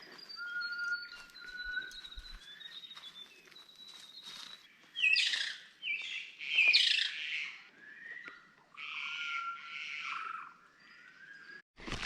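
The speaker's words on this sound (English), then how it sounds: "We just stopped and we're just listening to the native parrot. I think it's the kaka." A kaka, a native New Zealand parrot, calls in forest along the Timber Trail near Pureora, giving whistled notes and harsh, scratchy squawks in irregular bursts at moderate distance, with quiet outdoor ambience between calls.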